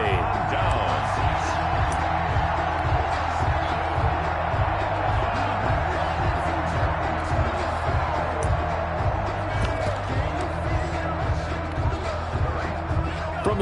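Steady stadium crowd roar at an NFL divisional playoff football video game, Cardinals versus Eagles, with a rhythmic bouncing thump underneath and a commentator talking over it throughout.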